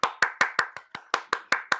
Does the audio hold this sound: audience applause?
yes